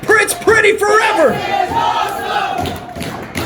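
Wrestling arena crowd roaring and yelling, a loud sustained wave of cheers with shouted voices rising and falling throughout.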